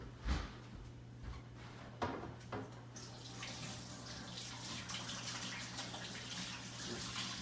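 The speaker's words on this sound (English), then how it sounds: "I'm gonna wash my hands." Running tap water pours steadily into a home kitchen sink while hands are washed, preceded by a few clunks and knocks, the close, even rush continuing to the end without speech.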